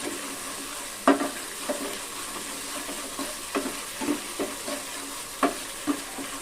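A spatula scrapes and stirs spice paste with turmeric and salt for a pabda fish curry. Sharp strokes come at irregular intervals over a steady background sizzle. The stirring is close and moderately loud, with no talking.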